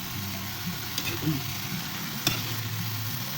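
Vegetable lumpia filling being stirred in a full pan, with soft scraping and a light sizzle under a steady background hum, and one sharper knock of the utensil against the pan; a voice is faintly present.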